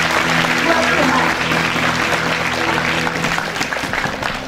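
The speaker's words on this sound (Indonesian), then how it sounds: "Tepuk tangan buat Tuhan." Church congregation clapping loudly and steadily through the whole stretch, a dense close applause with a sustained musical tone, likely an organ or keyboard, underneath.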